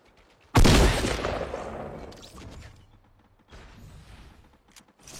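Sniper gunfire in the video game Fortnite: a single loud, sharp shot rings out and decays over a couple of seconds, followed by quieter mechanical rattling and a few faint clicks, with no voices.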